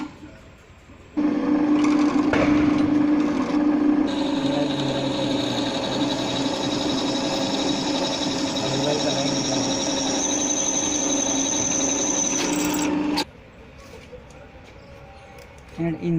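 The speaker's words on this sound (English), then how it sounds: "Drill machine." A drill machine in a machine shop spins up and runs with a steady high motor whine and tonal hum for about twelve seconds while drilling, then stops abruptly, with faint workshop noise before and after.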